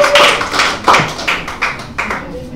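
A church congregation claps, a handful of loud, close, uneven hand claps spread over a few seconds.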